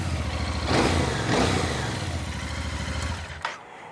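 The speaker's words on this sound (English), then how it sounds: "gave it a little rev there" A like-new 2025 Royal Enfield Bear 650 motorcycle engine runs close by and is given two short revs that rise and fall, then settles back to a rough idle before cutting off abruptly near the end.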